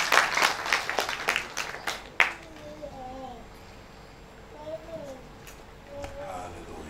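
Congregation applauding during a church worship service, a burst of claps for about two seconds that stops abruptly, followed by quiet room tone with faint chirping and soft background voices.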